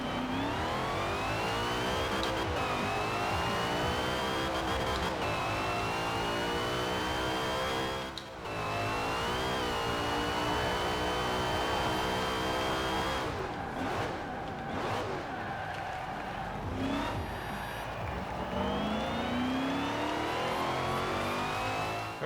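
Ferrari Daytona engine in a racing video game, revving hard through the gears with rising and falling pitch sweeps, loud and continuous with traction control off, brief shifts and a short skid-like dip.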